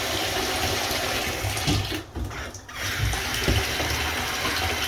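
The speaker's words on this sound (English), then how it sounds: "hot water in the bucket" Hot water pours steadily into a bucket with a loud, continuous rushing splash, briefly dipping once before running on.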